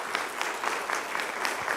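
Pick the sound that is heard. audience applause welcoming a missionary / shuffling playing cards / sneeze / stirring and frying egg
audience applause welcoming a missionary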